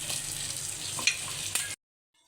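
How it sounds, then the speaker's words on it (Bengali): Fried mixed vegetables tipped into spiced masala for a Bengali vegetarian mixed vegetable dish sizzle steadily with a couple of sharp stirring scrapes, close and loud, then cut off abruptly into silence. "ভেজে রাখা সবজিগুলো দিয়ে দেব"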